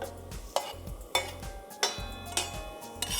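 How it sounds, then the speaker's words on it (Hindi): Salted chicken liver (kaleji) fries on a large flat iron tawa under a soft sizzle, while a spatula strikes and scrapes the griddle in quick, regular taps about twice a second. "फ्राई करूँगी तवे पे ताकि ये कलेजी जो है प्रॉपरली भुन जाए"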